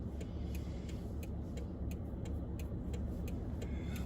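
A car engine idles steadily while warming up on a cold day beside Highway 31 northbound, a low continuous rumble heard from inside the vehicle, with faint regular ticking on top and no talking.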